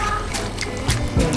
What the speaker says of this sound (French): Je couvre d'abord d'eau.